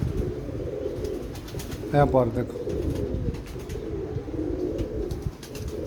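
Pigeons coo softly in short, rounded calls, with one clearer burst partway through, under steady outdoor background noise and someone talking.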